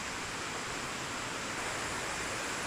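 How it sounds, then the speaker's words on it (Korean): Water from Pacho waterfall in Narathiwat, Thailand, a faint, steady hiss of falling water heard from a distance with no other sounds. "뭔가 물소리가 들리는 것 같은데"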